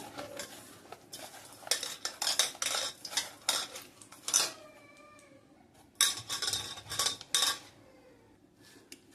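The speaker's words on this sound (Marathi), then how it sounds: "आता हे सगळे मिक्स करून घ्यायचं" A spoon clinks and scrapes against a bowl while mashed sweet potato and potato filling with black salt is mixed for fasting-day kachori, in irregular bursts of close metallic taps and rubs with no voices.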